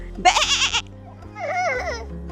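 A voice imitates a goat with two short, wavering bleats, the first higher and sharper, the second lower and drawn out, close and clear.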